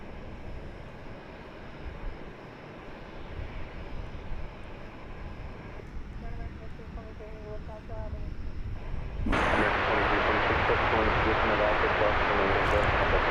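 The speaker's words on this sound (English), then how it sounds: "That was Frontier Airlines, of course. Flight number 2137 off to Las Vegas" A Frontier Airlines jet bound for Las Vegas takes off at Dallas Fort Worth airport. A distant engine rumble builds and then jumps to a loud, steady broadband roar for the final few seconds.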